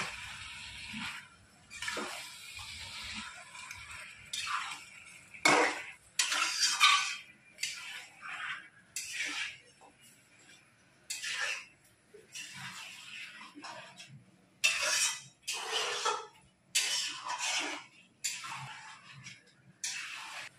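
Chicken stirred with ginger and garlic paste in a metal pot, a close series of irregular scraping and clinking strokes of a spoon against the pot, separated by short quiet gaps, with no talking.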